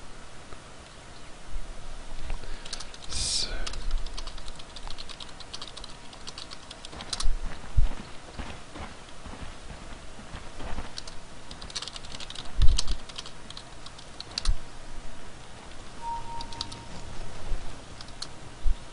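Computer keyboard typing during a game, with irregular bursts of clicky key taps and occasional louder single strikes, close and alone with no talking.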